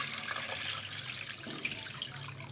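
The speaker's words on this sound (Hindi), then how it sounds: "अब इसके अंदर इतना शामिल करेंगे पानी कि ये डूब जाए" Water runs steadily from a tap into a pot holding a kilo of raw chicken for a roast, a continuous close splashing fill with no voices.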